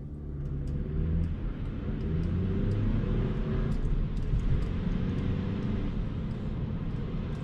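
Volkswagen T-Roc 2.0 TSI SUV pulling away from standstill, a steady low engine rumble with road and tyre noise heard from inside the cabin, continuous and moderately loud.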